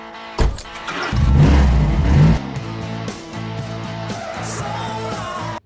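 A car starts, then its engine revs hard and accelerates quickly through several gear changes, loud and close, with the note settling into a steady drone.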